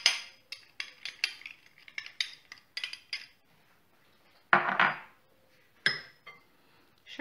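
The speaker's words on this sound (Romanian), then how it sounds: "Și amestecăm așa bine totul." A spoon beats a dough mixture of milk and salt in a bowl, producing quick irregular clinks and knocks against the bowl, with a pause and then a few louder, scraping strokes.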